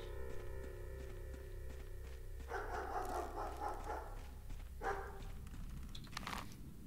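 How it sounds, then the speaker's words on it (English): Dogs bark in the video game Pathologic Classic HD, several faint scattered barks and yips over a low steady hum and layered ambient tones. "What's with all the dogs barking?"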